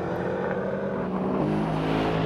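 A Mercedes-AMG E63 S with four-wheel drive accelerates hard in a rolling race, its engine roaring loud and close with rising harmonic pitch that steps through gear changes.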